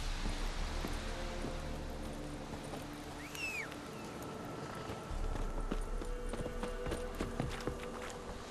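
Roach the horse in The Witcher 3 moves with a rapid, rhythmic clatter of hooves over a bed of ambient game music, with a brief birdlike chirp midway.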